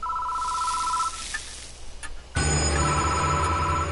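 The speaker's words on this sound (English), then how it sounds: "The phone's ringing." A telephone rings in the horror game Death Mark, a steady electronic trill lasting about a second, followed by a loud sudden shift to a denser droning tone; no talking.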